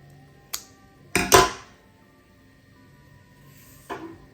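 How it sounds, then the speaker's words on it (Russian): A few sharp snips of scissors cutting yarn threads at uneven intervals, including a quick double cut, in an otherwise quiet room with no talking. "И здесь я просто нарезаю эти ниточки вот таким образом."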